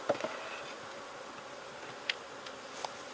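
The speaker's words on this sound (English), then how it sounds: "There's a lot of bees in there" Honeybees buzzing inside a hive during winter preparation, a faint steady drone with a few sharp clicks and taps over it, no voices.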